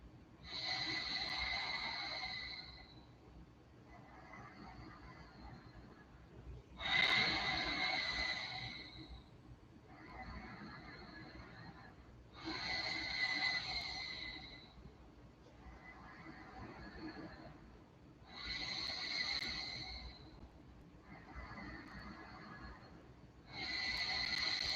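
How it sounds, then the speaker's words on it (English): Slow ujjayi breathing during a yoga session, soft hissing breaths through the nose alternating between longer louder exhales and quieter inhales in an even, repeating rhythm, faint and close. "exhaling through the nose, making that soft sound as if you're trying to fog a mirror"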